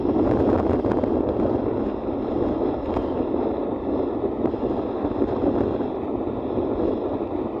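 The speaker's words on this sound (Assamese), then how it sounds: "ধুনীয়া বতাহ বলি আছে" Steady breeze blows along a quiet country road, a continuous rushing wind with some microphone buffeting that holds at an even, fairly loud level throughout.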